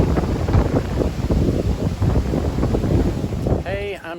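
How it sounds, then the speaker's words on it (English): Strong gusting wind buffets the microphone on a hike up Haystacks, a loud continuous roar with rises and falls, joined by a brief voice at the very end. "It's bloody windy today again, isn't it?"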